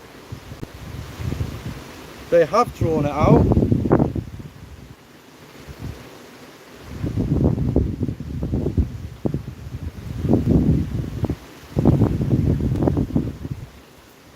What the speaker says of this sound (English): Oh, it's so windy